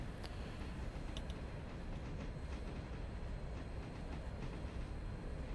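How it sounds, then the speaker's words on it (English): A train running in the railway game Railroader, a continuous low rumble of rolling wagons with faint rhythmic clicks, steady and moderately quiet throughout. "I'm struggling to pull a train up to 30 miles an hour"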